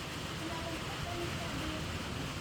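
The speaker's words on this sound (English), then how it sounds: "It's a raining evening here" Evening rain in Tigbauan, Philippines, falls as a steady, even hiss of drops that fills the whole stretch at a faint, distant level.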